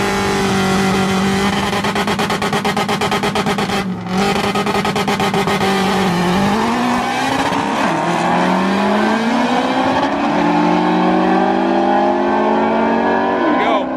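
Honda Civic with a stock K20 engine in AWD form, drag racing against an American muscle car on the street: a loud, close engine roar that climbs and shifts in pitch through repeated revving and acceleration, continuous throughout.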